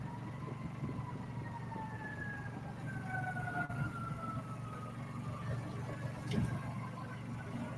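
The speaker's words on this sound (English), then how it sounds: "I hear it. Fire truck." A fire truck siren wails from a distance near a bridge, its pitch sweeping slowly downward in long tones over a steady low engine hum, faint but clearly audible above the background.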